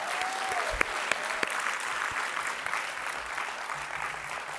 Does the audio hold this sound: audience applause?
yes